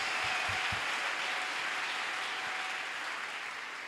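A church congregation claps together in praise, a few low knocks near the start under a broad, steady wash of applause that fades slightly toward the end, with no voices over it.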